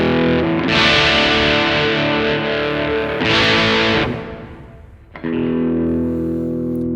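A heavily distorted electric guitar drenched in reverb, playing loud sustained chords that swell, briefly fade into a washed-out tail, then crash back in, with no talking.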